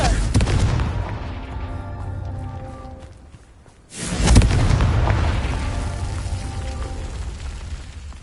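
A Confringo spell in Hogwarts Legacy goes off as a loud, deep explosive boom after a short lull, then rumbles and crackles on for several seconds, with game music underneath.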